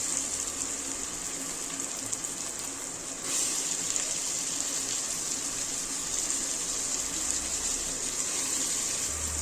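Cut potatoes and tomatoes sauté in hot oil in a home kitchen pan, a continuous close sizzle that grows louder after a few seconds and carries on without talk.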